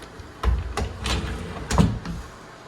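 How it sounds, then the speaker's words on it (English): A pocket door in a residential interior with stone tile flooring slides along its track, producing a few soft rumbling and bumping sounds. These include a louder knock near the middle and a thud toward the end, close by with no talk. "Pocket door there, which makes sense in this type of space."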